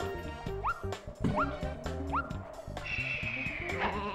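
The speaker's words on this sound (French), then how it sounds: "Ce chien de berger exemplaire." A sheepdog in the video game Une Faim de Loup gives several short barks, mixed with bleat-like calls over busy game music and effects, with no talking.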